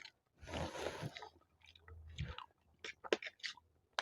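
Chewing during a khichdi eating challenge, with soft wet mouth sounds and crunchy bites coming in several close bursts between short pauses.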